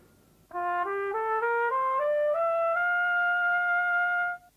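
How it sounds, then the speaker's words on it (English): A trumpet plays a rising series of clear, bright notes stepping upward and settling on a long sustained tone, close and loud with no talk over it. "he's playing the trumpet"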